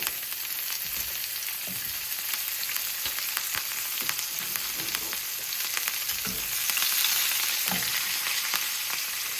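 Salmon pan-searing in butter with garlic and thyme gives a steady, dense sizzle that runs throughout, with occasional soft stirring or spatula touches and no talking.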